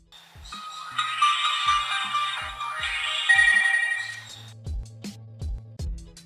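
A knockoff BlackBerry-style phone powering on plays a bright electronic startup jingle for about four seconds, followed by a few soft low beeps and clicks, close and alone.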